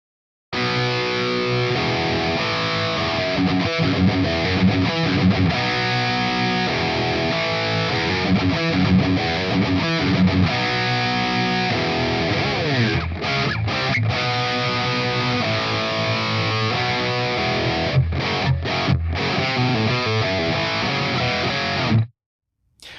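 A distorted electric guitar chugs through the power chord pre-chorus riff from Skid Row's "Monkey Business," loud and saturated with effects. It plays continuously for about twenty seconds with no talking, then stops abruptly.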